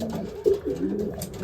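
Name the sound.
racing pigeons cooing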